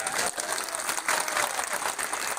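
A crowd at an election rally in Madhya Pradesh claps loudly and continuously, a dense unbroken wash of hands that stays at a steady, strong level for the whole short stretch.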